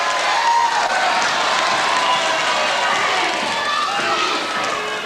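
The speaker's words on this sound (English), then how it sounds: "The crowd shouting easy" A dense, steady roar of a large crowd shouting and cheering at a 1984 British tag team wrestling match, loud and continuous throughout with occasional individual voices rising above the din.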